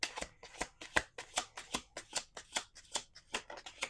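A deck of affirmation cards being shuffled by hand, a close series of quick crisp riffles and flicks in a steady rhythm, with no talk over them.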